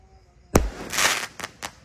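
Several firework bursts from an 8-shot mercon cake set off on a Ramadan night: one loud opening bang followed by a fuller crackling burst and two sharper pops spaced across the remaining seconds.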